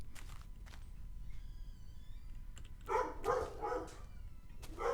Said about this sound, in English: Sorry, it's my dog in the background.